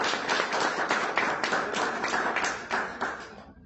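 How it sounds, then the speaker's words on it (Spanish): Audience applause at a panel discussion in Naucalpan, steady dense clapping from a room of listeners that holds for a few seconds, then tapers off quickly at the end. "Vamos a recibir también con un fuerte aplauso a la psicóloga Tania Echeverría."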